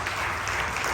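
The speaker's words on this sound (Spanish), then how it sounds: "Denle un aplauso al Señor" Applause from a church congregation during a service, a dense, continuous patter of clapping heard steadily through a brief moment.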